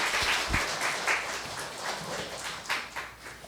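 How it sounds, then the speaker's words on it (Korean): A church congregation claps steadily to welcome a deacon coming forward to speak, a dense, sustained round of applause filling the hall at moderate distance with no voices over it. "박수로 우리 환영하도록 합시다"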